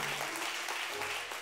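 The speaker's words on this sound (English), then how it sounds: "Give them a round of applause." Church congregation applauds the choir, a steady broadband wash of clapping lasting throughout with no pauses, moderately loud and fairly close.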